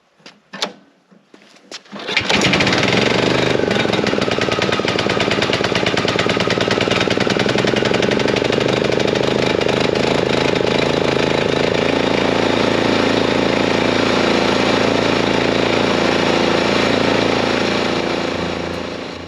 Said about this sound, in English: that's where the high speed is, the high idle for the mower